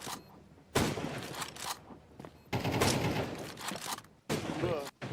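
Gunfire in a Counter-Strike match comes in several loud bursts of rapid shots separated by short gaps, with speech partly under and between them.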